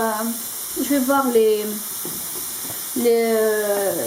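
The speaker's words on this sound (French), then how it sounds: "Je vais laisser le tout se caramélise" Onions and raisins caramelize with honey in a hot pan, giving a steady, close sizzle that runs beneath a voice talking throughout.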